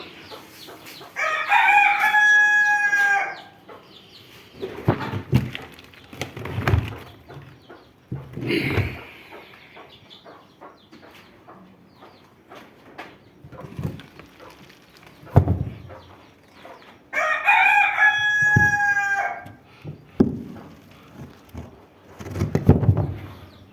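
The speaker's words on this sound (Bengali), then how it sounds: "হাঁস আছে, দেশি মুরগি আছে, দেশি মুরগি আন্ডা মান্ডা খায় আর কি।" A desi rooster crows twice, loudly and nearby, once near the start and again later, while desi chickens cluck and scratch in short scattered bursts between the crows.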